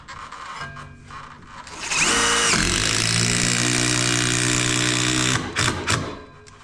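A cordless screw gun drives a long screw into old barn wood for a new hay loft: a short start, then a loud, strained motor whine lasting about three seconds, close up, ending in brief bursts.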